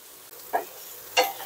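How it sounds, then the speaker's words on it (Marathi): Tomato, onion and capsicum being sautéed in a pan for paneer lababdar: two brief spatula scrapes over a faint, steady background sizzle. "तर आता हे छान आपण ना मस्तपैकी पूर्ण शिजेपर्यंत व्यवस्थित असं परतून घेऊया."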